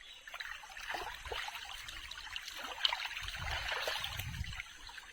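A small forest waterfall near a village temple pours steadily, a continuous close rushing and trickling of water with no voices.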